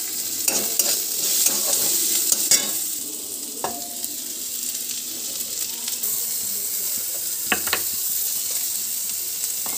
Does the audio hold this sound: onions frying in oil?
yes